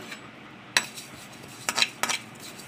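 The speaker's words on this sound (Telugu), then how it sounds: "ఇందులో మనం నూపుపప్పు అనేది మనం వేసి ద్వారగా మనం వేయించుకోవాలి" Sesame seeds roasting in a dry pan, a faint hiss broken by a few sharp scraping clinks of a utensil against the metal, three distinct strokes spaced apart, no talking.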